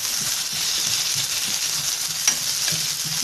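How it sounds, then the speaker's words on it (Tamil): Onions for a chutney sauté in a hot pan, giving a steady, fairly loud hissing sizzle throughout, with faint scraping of stirring and one small clink. "வெங்காயம் வந்து நல்லா வதங்கி வர அளவுக்கு வதக்கி விட்டுக்கலாம்"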